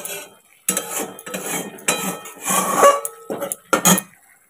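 Ground turmeric, chilli and coriander are sautéed with a little sugar in a pan for a Bengali curry. About half a dozen short, rhythmic bursts of a utensil scraping metal sound up close.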